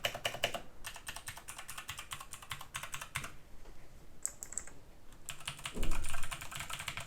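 Fingers type on a Blitzwolf BW KB1 RGB 63-key keyboard, a fast, dense run of close, light clicky keystrokes with a couple of brief pauses and a slightly heavier thump near the end.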